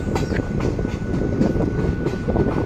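Agartala special train running through hilly country, a continuous close rumble of carriage wheels on track with light rhythmic clatter throughout.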